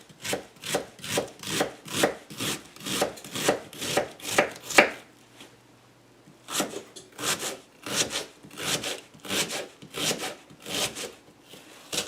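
Half an onion being chopped with a knife on a cutting board for tuna salad, a steady rhythm of crisp close knocks in quick succession, a brief pause, then the chopping resumes.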